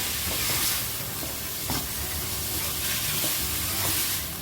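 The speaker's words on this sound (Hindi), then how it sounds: "इसको लहसुन अदरक के पेस्ट के साथ अच्छी तरह मिक्स करते हैं।" Mutton liver frying in a pan with garlic ginger paste, giving a steady close sizzle and hiss, broken by the scrape and clatter of stirring, with no talking.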